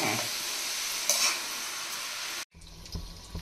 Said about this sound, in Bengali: তোপসে মাছের ফ্রাই ওপরে ফ্রাই প্যানে ভেজে নেবো